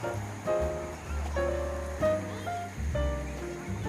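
Río del Durazno in Villa Yacanto, Córdoba, a cold river beside a walking trail, flowing with a steady broadband rush of water, close and moderately loud, with faint tonal hum layered over it.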